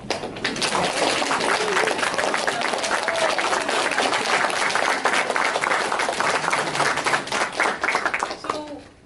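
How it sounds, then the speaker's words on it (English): Convention audience applauding guests at a horror fan Q&A panel, dense sustained clapping from a large crowd that fills the room at steady loudness, tapering off near the end. "I wanted to officially applaud because you guys deserve it."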